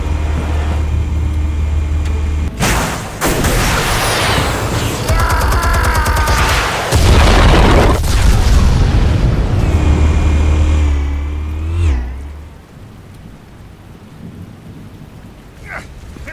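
Explosives detonate in a Batman video game: heavy booms with rumbling debris strike in bursts, followed by crackling aftermath and a fading tail.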